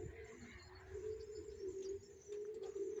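Homing pigeons coo in a low, steady, droning rhythm, several birds close by and calling almost continuously, with a few faint higher chirps over the top.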